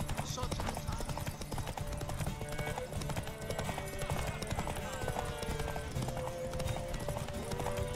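Horse galloping in a race in The Witcher 3, rapid rhythmic hoof clip-clop running continuously over game music and ambience, with someone talking over it.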